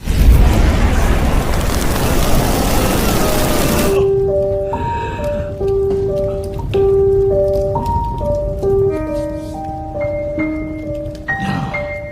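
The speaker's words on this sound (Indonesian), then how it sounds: "seluruh ruangan meledak" A whole room blowing up in a film scene: a loud, broad roaring blast rumbles for about four seconds, then cuts off abruptly into sustained musical tones.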